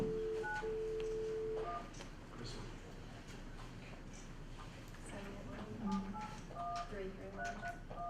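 A telephone dials out during a board meeting to bring a remote member into the call, with short electronic tones sounding over a steady room hum while people talk nearby.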